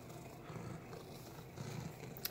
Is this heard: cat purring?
yes